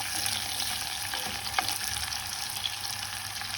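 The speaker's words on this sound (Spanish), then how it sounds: "Voy colocando la cebolla con el ajo para que vaya exhalando y desprendiendo su aroma." Onion and garlic sizzle steadily in a hot pan, a dense, even frying hiss with faint crackles and an occasional stir, close and continuous with no talking.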